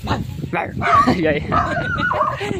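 A dog yips and whines in short, high bursts, mixed under and between loud, close talking that runs through the whole stretch.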